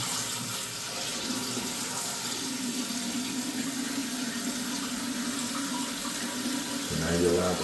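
A toilet tank refills through a newly installed fill valve, a continuous close hiss of rushing water with a low gurgling hum that swells briefly at the end.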